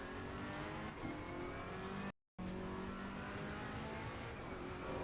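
A GT race car engine in the racing game Assetto Corsa Competizione drones loud and steady under throttle, with a dense, continuous tone. The sound cuts out briefly for a split second partway through.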